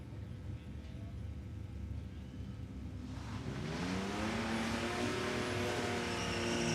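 Drag race cars at Palmyra Raceway roar down the strip as a close pair, the engine noise swelling louder and nearer midway through and holding as a dense, continuous rumble with rising whine.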